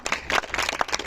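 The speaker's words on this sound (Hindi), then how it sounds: "जोरदार ताली इनके लिए बजाएं" An audience at a school farewell party claps for the 11th class students, a short patch of scattered hand claps from a modest group.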